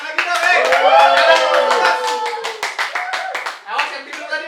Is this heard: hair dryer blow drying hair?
no